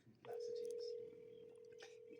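A telephone gives a steady electronic tone after a short click, the single ringing or line tone holding for about two seconds, quiet and heard alone.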